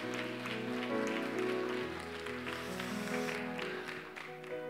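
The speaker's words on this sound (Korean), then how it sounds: "박수로 축하하며 격려하겠습니다." A church congregation applauds graduates of a five-week fathers' school course, steady broadband clapping filling the room throughout while sustained organ or keyboard tones play underneath.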